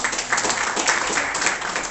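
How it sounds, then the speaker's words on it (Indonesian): A seminar audience breaks into brief, dense applause, a steady wash of clapping at moderate loudness without clear individual claps. "Luar biasa dong, tepuk tangan dong."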